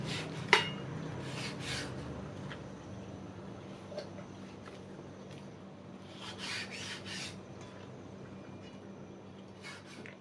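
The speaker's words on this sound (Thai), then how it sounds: "แล้วก็จะเอาหนังออกหน่อย" A knife scrapes and rasps steadily, cutting the skin off pork on a board, with soft rubbing strokes and an occasional light clink, close and fairly quiet.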